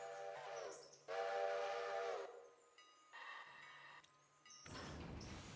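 A train in a railway video game with steam-whistle-like tones, hissing and rolling engine noise in alternating segments, fairly quiet and steady with no talk.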